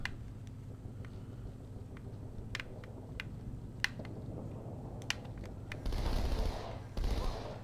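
Gunfire from the human weapons in Halo 2 Anniversary, with sharp repeated shots in bursts over game ambience and a louder spray of fire near the end.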